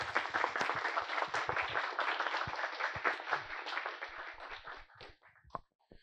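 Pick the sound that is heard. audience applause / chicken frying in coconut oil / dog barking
audience applause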